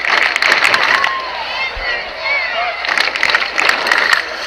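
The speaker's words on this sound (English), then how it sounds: "Crowd with an Amberjacks chant" Baseball crowd at a Monterey Amberjacks home game chanting for the team, rhythmic massed voices and claps rising and falling at a distance under a close announcer's voice.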